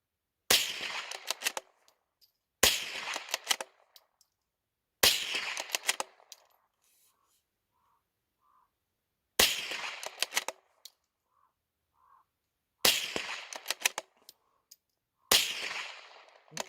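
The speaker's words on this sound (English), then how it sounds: "I'm not sure if you heard that ricochet." Six sharp gunshots fired at Budweiser can targets set far off in a foggy outdoor spot, each crack followed by a short ringing tail and ricochet whine, spaced a few seconds apart with quiet gaps between.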